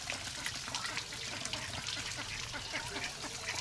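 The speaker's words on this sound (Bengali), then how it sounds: "এবার দেখো ট্যাঙ্কি থেকে কীরকমভাবে পানিটা বের হচ্ছে।" Water flowing out of a tractor's tank, a faint continuous splashing gush with trickling detail, steady and unbroken, heard from close by.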